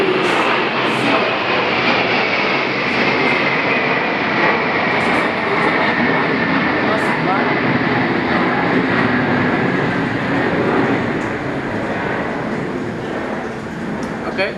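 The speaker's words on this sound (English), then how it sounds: "okay, there's an airplane passing by," A loud, steady roar of an airplane passing overhead fills the whole stretch, with a slowly falling whine and faint clicks on top.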